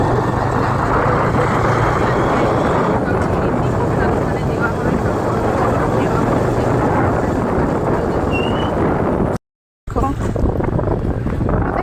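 Steady loud engine rumble and wind buffeting from riding a motorbike to a nearby temple, continuous with a brief dropout near the end.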